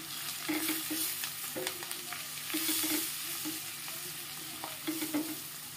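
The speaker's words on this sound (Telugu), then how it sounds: "పసుపు, ధనియా పొడి, గరం మసాలా, కొద్దిగా కారం పొడి అంతటినీ చూడండి ఆయిల్లో వేగేటట్టుగా చూసుకోవాలా" Turmeric, coriander powder, garam masala and chilli powder frying in hot oil in a pan for mushroom curry, a close steady sizzle with repeated scraping stirs, no talking.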